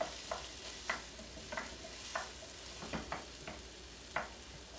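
Potatoes and onions frying in a pan over high heat, a faint, low sizzle under a series of light, irregular clicks and scrapes from stirring, heard close with no voices.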